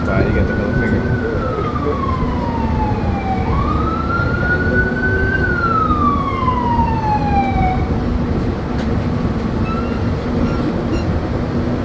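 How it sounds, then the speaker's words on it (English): A wailing ambulance siren sweeps up and down as it passes outside, over the loud steady rumble of a moving subway train. "every time the ambulance passes by"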